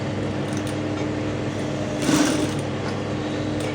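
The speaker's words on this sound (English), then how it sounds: "I'm on the machine now, and like I said, just the way I pinned it, I'm just going to be sewing it like that." A sewing machine runs continuously while stitching a pinned blouse bodice, a close, steady mechanical whir with a brief louder burst midway.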